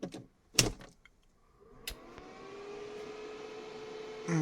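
An online UPS switches on with a sharp click and a couple of thumps, then a fan and electronics spin up into a rising, steady whir that grows louder and holds.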